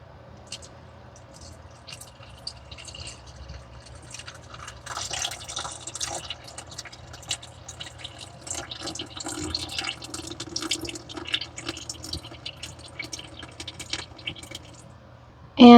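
Water poured into a bowl holding sourdough starter for multigrain sandwich bread dough, a soft trickling and dripping pour that builds gently in a quiet kitchen and ends with a sudden louder knock.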